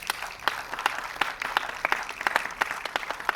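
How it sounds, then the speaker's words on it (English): An audience at a film cast and crew felicitation event in Goa claps steadily, producing a dense, moderately close wash of applause with distinct sharp claps. "Let's give a big round of applause for Weber"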